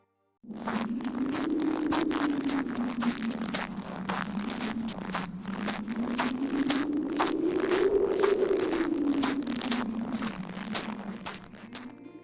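Footsteps crunch through fresh snow at a steady, unhurried walking pace, each step close and crisp over a low background hum.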